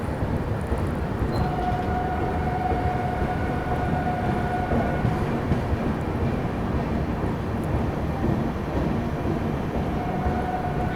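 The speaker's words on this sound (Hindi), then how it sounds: "यहाँ पर अपनी हमसफ़र ने दूसरा ओवरटेक कर दिया।" Prayagraj Humsafar Express running at speed while overtaking, heard as a steady, loud rail rumble and wheel noise throughout, with a faint sustained tone near the middle.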